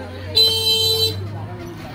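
A car horn honks once in a steady tone for under a second amid a wedding crowd in Munshiganj, Bangladesh, with people talking and a low engine hum throughout.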